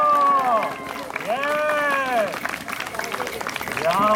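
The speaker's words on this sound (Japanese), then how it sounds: "もう一度お感動人に大きな拍手" Crowd at an anti-nuclear rally in Shibuya applauding while voices cheer and call out in long rising shouts, loud and close, filling the whole stretch.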